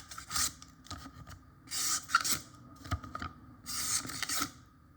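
Sharpened knife edge slicing through a post-it note after honing on a Lidl Parkside sharpening stone, three soft papery swishes of cutting, close and quiet against a faint background hum.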